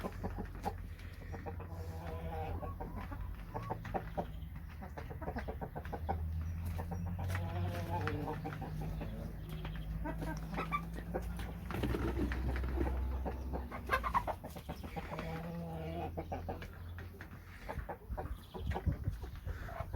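Chickens cluck and chatter steadily close by, with a rooster among them and occasional sharp bird calls over a low rumbling background.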